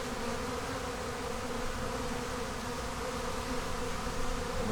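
Honey bees fill an open hive stocked with frames of honey and pollen, their dense, steady buzz droning up close and unbroken from start to finish.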